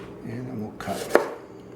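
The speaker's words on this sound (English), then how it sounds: "on the tomato, I like using the serrated knife. Cuts just a little easier." A serrated knife cuts through a tomato on a board, with a few soft sawing strokes and one sharper knock, all very brief and close.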